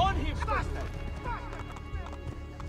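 A horse gallops off in the Assassin's Creed 2 video game, rapid clip-clop hoofbeats fading as it runs, while a voice talks over it.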